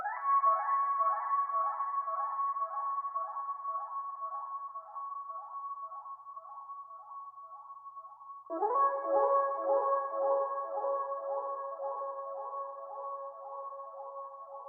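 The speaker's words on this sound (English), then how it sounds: "it is this accent, which yet again comes in from the Carvey Ministash 2 kit, and in context, it just sounds like so." An accent sample from the Carvey Ministash 2 kit, used in a beat inspired by a song: a sustained, rippling tonal sound that holds steady, then shifts to a new pitch partway through, fairly quiet and alone.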